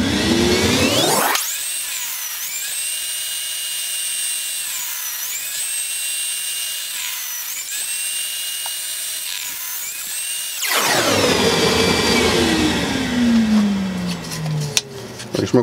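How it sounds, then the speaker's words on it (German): A power saw whines steadily for several seconds cutting hardwood, its pitch wavering as it cuts, then winds down; loud and close. "Sägen wir es mal runter und dann mal gucken."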